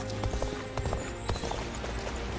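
A horse gallops in Dynasty Warriors Origins, the rider mounted on Lu Bu's horse, with rapid rhythmic hoofbeats thudding over a dense game soundscape, close and steady.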